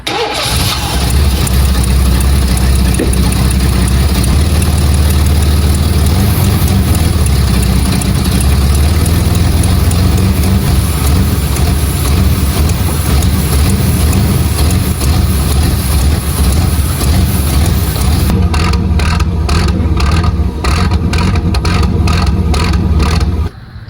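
A Chevrolet car engine runs loud and close for over twenty seconds, a rough, rumbling idle that churns unevenly, then cuts off near the end.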